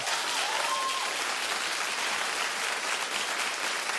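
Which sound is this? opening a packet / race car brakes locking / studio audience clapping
studio audience clapping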